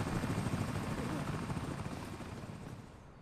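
Helicopter in the video game American Arcadia, a loud, dense rotor wash and engine roar filling the whole stretch, steady then easing slightly toward the end.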